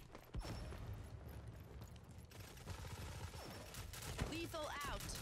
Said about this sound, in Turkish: Çok kötü attım bombayı ya.